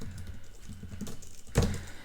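Rapid, close clicking of keys on a computer keyboard while code is written, an irregular run of light taps ending in a firmer clack, with no talking.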